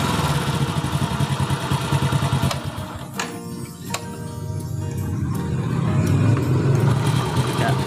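Honda Astrea Grand motorcycle engine idling steadily after carburetor air-screw tuning, a continuous close low rumble with a brief dip mid-way, then settling back to an even idle.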